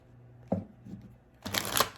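Two short bursts of tarot cards being shuffled, a brief riffle followed by a louder, longer flutter near the end.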